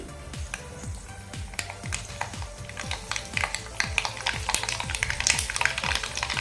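Mustard seeds popping and crackling in hot oil for a tempering, sharp irregular pops over a faint background sizzle, growing denser toward the end with no talk.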